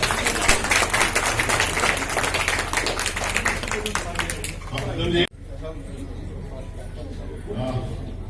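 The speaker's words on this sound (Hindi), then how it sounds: "इनके लिए जोरदार ताली बजाएं" Applause from an audience at a CAIT event in Jaynagar, dense clapping mixed with crowd murmur for about five seconds, then cutting off abruptly to quieter room noise with faint voices.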